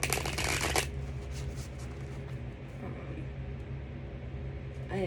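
A burst of tarot card shuffling at the start, a quick riffle of papery flutters, then quieter handling noises and faint background hum.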